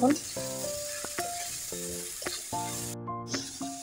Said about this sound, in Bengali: তারপর আমি ফুলকপি আলু পিসগুলো দিয়ে দেবো মশলার সাথে। মশলার সাথে লাড়িয়ে মিশিয়ে নেব।